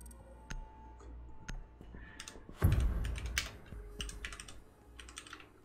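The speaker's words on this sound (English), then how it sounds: "I'm really bad at typing with my keyboard sideways" Typing on a computer keyboard held sideways during a Rainbow Six Siege session, with scattered clicks, then a louder burst of rapid clattering keystrokes and a few more taps afterward, close-up and without voices.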